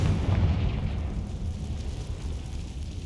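A Confringo fire spell blast in the game Hogwarts Legacy, a deep low rumbling boom that swells at the start and lingers as a steady muffled roar for a few seconds.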